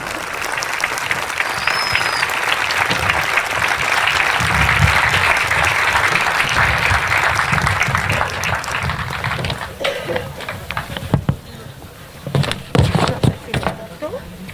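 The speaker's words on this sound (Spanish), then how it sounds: "Recibamos con un fuerte aplauso a nuestros pregoneros José Pedro y Lidia" A village crowd at the San Juan festival in Tasarte gives loud applause to the festival criers, dense clapping that thins into scattered claps, with voices mixed in.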